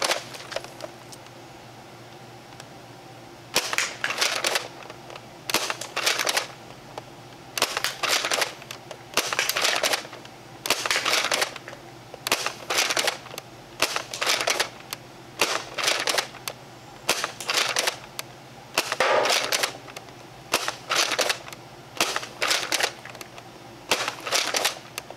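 Gunshots fired at targets: sharp, loud cracks in clusters of three or four, spaced a couple of seconds apart with brief quiet gaps, repeating steadily over roughly twenty seconds.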